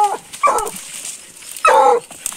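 Hunting dogs on a paca hunt bark and yelp in two loud, close bursts, a short cluster near the start and another after a pause, with whimpering tones between.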